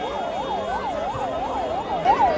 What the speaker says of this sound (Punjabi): ਨਾਲ ਦੀ ਨਾਲ ਹੀ ਐਂਬੂਲੈਂਸ ਪਹੁੰਚ ਚੁੱਕੀ ਹੈ